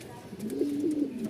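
A low, rolling coo from Bokhara pigeons in a loft rises and swells over about a second, close and moderately loud, with faint noise behind it.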